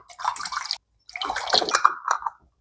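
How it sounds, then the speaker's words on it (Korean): Pumpkin sikhye, a sweet Korean rice drink with sediment and solids, poured through a funnel into a bottle, giving two close bursts of splashing, gurgling liquid separated by a short pause. "이렇게 병에 담아 주시면 됩니다."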